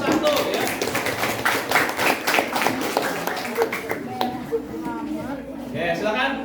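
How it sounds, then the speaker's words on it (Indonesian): A classroom group claps for the first group in a lively burst of scattered applause that gradually thins out, with voices talking over and after it. "Buat tepuk tangan buat kelompok satu ya"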